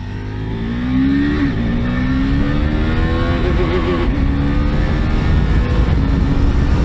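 A 2022 KTM RC390 motorcycle accelerates on a highway, its single engine rising steadily in pitch with a loud, continuous drone, heard from the rider's position along with wind rush.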